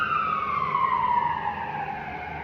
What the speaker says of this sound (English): I'm right off a big avenue where ambulances and fire trucks and stuff like that pass by